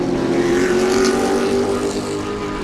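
Corvette GT race cars battle wheel to wheel at Sebring, their engines droning loud and steady as they scream past nearby in one continuous, dense roar.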